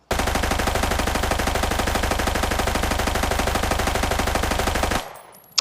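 An RPK machine gun in Arena Breakout fires at training dummies in one long, loud, rapid automatic burst lasting about five seconds. It stops abruptly, leaving a short fading tail and one faint click.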